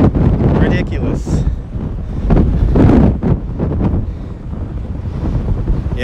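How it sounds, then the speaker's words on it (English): Strong gusting wind in a downtown street, rumbling and buffeting hard against the microphone in a loud, continuous roar that swells and eases. A voice talks faintly underneath. "if you do hear the wind, yes, it's windy out here. Wind's really picked up."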